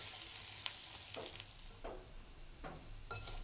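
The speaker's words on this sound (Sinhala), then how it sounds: "ටික වෙලාවක් හොඳට ක්‍රිස්පි ගතියක් එනකම් මේ විදිහට කොස්සට එක හොඳට තෙල් එකේ බැද ගන්න" Jackfruit seeds fry in hot oil until crisp, giving a quiet, steady sizzle punctuated by several short stirring scrapes and clinks spread across the clip, with no speech.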